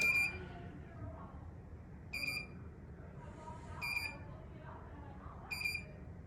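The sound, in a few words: beeping of cabin window shade mechanism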